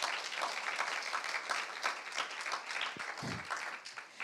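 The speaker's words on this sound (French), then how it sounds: "Allez, un peu d'applaudissements pour commencer." An audience at a regional BTS sales competition final in PACA gives steady, dense applause at a moderate distance, the clapping tapering slightly near the end.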